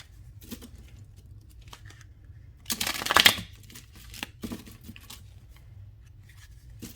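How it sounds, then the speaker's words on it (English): Cards from a tarot deck are shuffled by hand, with soft scattered ticks and flicks leading into a louder riffling burst in the middle, then a few quieter taps against a quiet background hum. "I'm going to give it a good shuffle"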